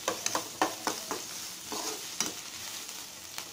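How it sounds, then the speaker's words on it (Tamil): Onions sauté in a pan for cabbage kootu, a quiet sizzle under repeated sharp scrapes and clinks of a spoon stirring against the pan, close and without speech. "ஆனியன் நல்லா வதங்கிடுச்சு"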